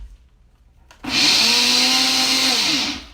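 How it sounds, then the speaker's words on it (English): A countertop blender spins up abruptly to a loud, steady high-pitched roar while blending a smoothie, holding at full speed for about two seconds before winding down, with no talk over it. "I'm going to blend it. It's going to be loud"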